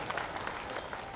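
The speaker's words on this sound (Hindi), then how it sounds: "एक बार जोरदार तालियों की गड़गड़ाहट से" Applause from the audience at a political rally, a brief burst of many hands clapping at a distance, even and sustained, with no voices over it.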